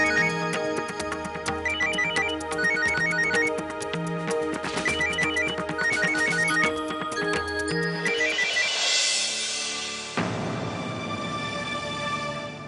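A phone ringtone plays as a repeating electronic melody with regular pulses, clear and close, over a musical score, during a scene in a Hindi television drama; no one speaks.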